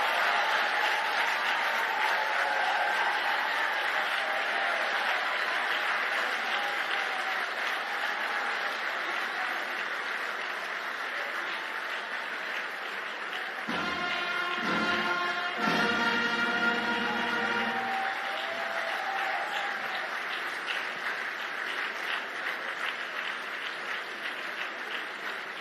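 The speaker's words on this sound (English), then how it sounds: "A round of applause for His Excellency, the President of the Federal Republic of Nigeria." A large audience at an Afreximbank annual meetings presidential session applauds the President of Nigeria with sustained, dense clapping from a big hall. The applause holds steady throughout, and a brief burst of amplified sound cuts through midway.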